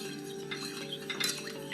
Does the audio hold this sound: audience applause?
no